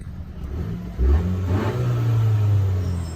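A Honda Civic Si engine fitted with a new PRL intake hose idles low, then revs up sharply around one second and holds a raised, steady drone before easing off.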